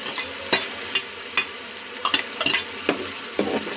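Onion, garlic and masala fry in a pan for a soybean nutri dish, with a steady sizzle broken by repeated sharp scrapes and stirs of a spoon, close and fairly loud, without talk.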